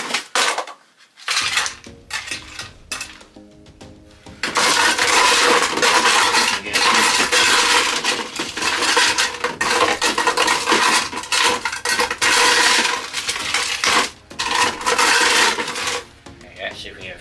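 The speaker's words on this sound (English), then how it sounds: "We're going to add some ice and then we're going to give it a little stir and twizzle." Ice cubes dropped into a Cuba Libre glass with lime, followed by stirring, giving bursts of sharp clinks and rattling against the glass, loud and close, with quieter pauses between additions.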